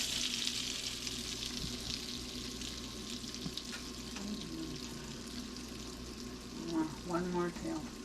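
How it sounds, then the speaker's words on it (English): Flour-coated fish steak frying in hot butter and oil, a steady close sizzle running throughout with a few clinks and scrapes near the end. "It'll go in the hot butter and oil."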